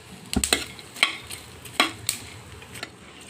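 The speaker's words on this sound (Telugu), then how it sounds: "ఇప్పుడు మొత్తం అన్నీ కలిపి వేపేసుకోవచ్చు." Sesame, flax seeds and peanuts roasting in ghee in a pan, stirred with a spoon that gives a few sharp close clinks and scrapes over a light sizzle, no voices.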